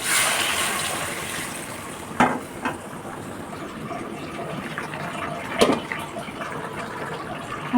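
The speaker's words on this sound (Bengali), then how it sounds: "দিয়ে দিচ্ছি গরম পানি।" Hot water poured into a fish curry with tomato simmering in a pan, a continuous gushing, filling sound close by with a couple of sharp clinks along the way.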